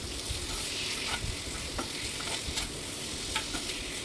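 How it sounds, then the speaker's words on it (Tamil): Spiced beef liver sizzles steadily in a hot pan, with occasional scraping stirs over a continuous dense fry. "அந்த பீஃப் லிவரில் எல்லாத்துலேயும் மசாலா கோட் ஆகுற மாதிரி நல்லா 2-3 வாட்டி ஃப்ரை பண்ணிக்கிறேன்."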